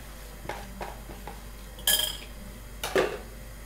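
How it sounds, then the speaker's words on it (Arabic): Plates clink and scrape against a pan as food is flipped between them, a few light taps followed by two louder ceramic clatters, close and alone. "نحط هكا الطبسين من فوق وباطا من تحت ونقلب"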